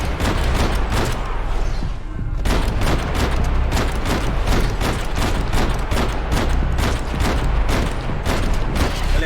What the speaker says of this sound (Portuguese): Quanto tiro que você dá na cabeça?